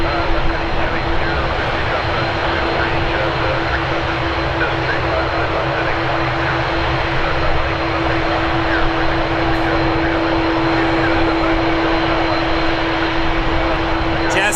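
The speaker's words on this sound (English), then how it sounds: "Great takeoff, great plane." A plane taking off at Toronto Pearson airport, its broadband jet engine roar holding steady and loud for the whole stretch, with a narrow engine whine running through it and a voice speaking faintly beneath.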